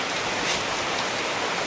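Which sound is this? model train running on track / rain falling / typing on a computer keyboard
rain falling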